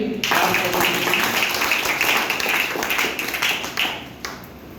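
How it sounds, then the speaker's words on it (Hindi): An indoor audience at an office health-awareness programme breaks into brisk, dense applause that carries on for several seconds and then thins out near the end. "एक बार ताली बजाइए"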